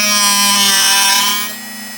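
Drill bit sharpener grinding a drill bit, a loud, steady motor whine with a strong hum that eases off near the end of the short burst.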